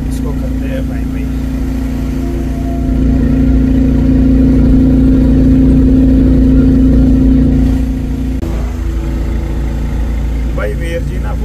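A three-wheeler auto rickshaw engine drones steadily while driving near Naugaon, its low hum swelling louder for a few seconds mid-stretch before settling back, with someone talking over it.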